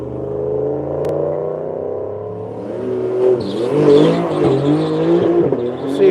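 A Porsche and a Chevrolet Impala SS at a drag strip, a single engine drone that rises through the gears before a louder surge of revving and a whine passing close by.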